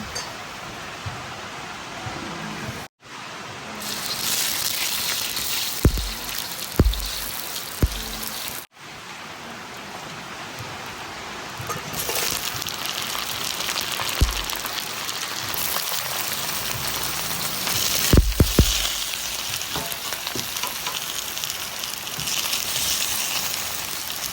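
Steady rain patters continuously with a hissing wash and scattered nearby drips and taps, brief dropouts between stretches of downpour.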